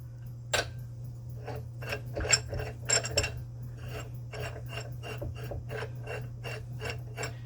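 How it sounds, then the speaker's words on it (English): A hand-operated U-joint press working on the driveline of a 1987 Chevy S10 gives a steady run of sharp metallic ratcheting clicks at an even pace, close up, over a constant low hum. "the U-joint press again, but I'm going to do it by hand because we don't need to be wailing on this thing with an impact now"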